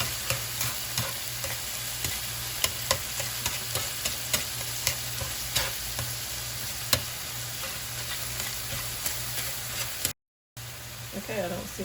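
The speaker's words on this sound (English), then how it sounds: "it cooked for another minute, so I'm going to stir it around" Browned ground turkey is stirred around a hot pan, with a steady sizzle and frying crackle under scattered scrapes of a utensil, close and continuous, with a brief cut near the end.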